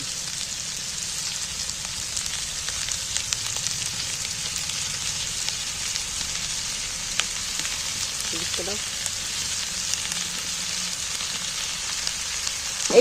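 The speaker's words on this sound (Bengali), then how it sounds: "এইবার আমি মাংস পিসগুলো তুলে দিচ্ছি" Chicken pieces fry in a pan with a steady, dense sizzle that stays even throughout, close and fairly loud, with a few faint clinks from stirring.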